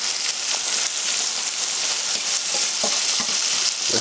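Green beans, squash and banana pepper sizzle and fry in avocado oil in a pan, a close, steady crackle with a few stirring clicks.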